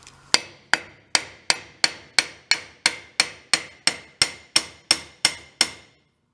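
A hammer taps a welded glob off a metal key on a VW dune buggy build, about fourteen sharp, evenly spaced ringing strikes, close and loud, with no talking.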